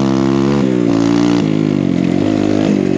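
A big bore Kawasaki KLX140RF dirt bike engine revs loudly and close, with a buzzing tone that rises and falls through several throttle changes.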